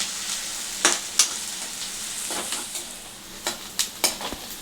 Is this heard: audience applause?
no